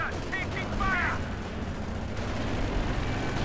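Sector artillery fire in Company of Heroes 2 booms through a dense, continuous rumble of explosions and gunfire, with a brief whistling streak early on and shots overlapping throughout.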